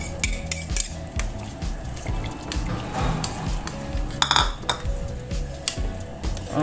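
Cereal, chicken and carrot soup stirred in a pot, a spoon scraping and clinking against the metal in irregular knocks, with soft bubbling and sloshing underneath.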